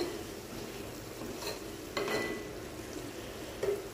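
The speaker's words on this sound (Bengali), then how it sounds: "আর এখানে এই সবজিগুলো একটু ফ্রাই করছি" Vegetables frying in a pan make a soft, steady sizzle, with a few sharper stirring scrapes and clinks breaking through at intervals; quiet and close, no talking.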